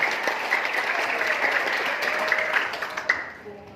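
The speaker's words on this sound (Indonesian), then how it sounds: "tepuk tangan yang meriah buat Bapak Ibu sekalian" Seminar audience applauding loudly and steadily, dense crowd clapping throughout, tapering slightly near the end.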